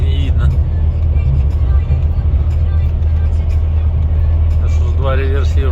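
Two refrigerated trucks pass by on a road, heard as a steady low road and engine rumble from inside a moving vehicle, with a voice talking over it.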